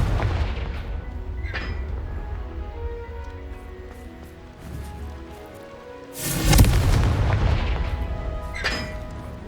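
Confringo blasting spells exploding in Hogwarts Legacy on PS5, heavy booming blasts and gunfire-like cracks, the loudest burst landing toward the end, set against rumbling battle noise with no talking.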